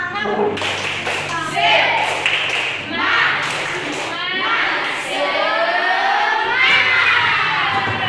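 Class of students doing the rhythmic 'tepuk semangat' clapping cheer, patterned claps mixed with children's chanting voices, loud and close.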